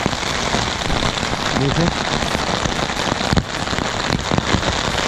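Steady, dense rain patters on a tent at a campsite near Chandrashila peak, a loud continuous wash with scattered drop hits throughout, while people talk briefly underneath.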